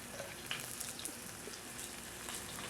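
Eggplant frying in a pan for Sicilian caponata, giving a steady close sizzle with soft crackles and pops running evenly throughout, no talking.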